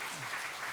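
Brief burst of steady congregation clapping filling a church during a Sunday service, dense and continuous with no gaps.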